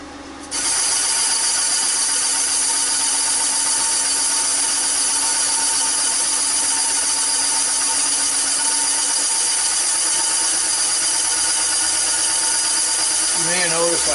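Boring machine cutting the cylinder bore of a Yamaha XS 1100 motorcycle, a steady high-pitched whine with grinding texture running continuously and close for the whole stretch, with a brief change near the end.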